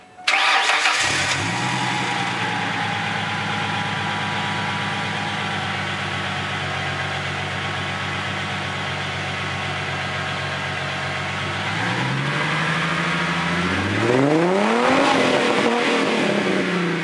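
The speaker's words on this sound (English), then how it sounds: "let's get a little exhaust sound here from last time." A 1997 Ford Mustang V6 fitted with a new exhaust cranks over and fires up, then settles into a steady, loud idle before the engine revs up twice with a rising and falling exhaust note near the end.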